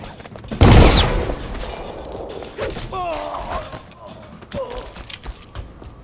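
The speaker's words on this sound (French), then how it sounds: "Qui me tire dessus?" Gunfire in the stealth video game Dishonored, a loud burst of shots near the start followed by creaks, thuds and mechanical clanks, with a voice talking intermittently.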